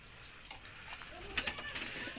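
A racing pigeon arriving home at its loft, with faint, soft cooing and brief rustles against quiet outdoor background hiss, a little stronger in the second half.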